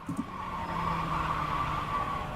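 A race car on the Barber track, its engine holding a steady, fairly loud drone with a faint hiss of sliding tires throughout, and no voices.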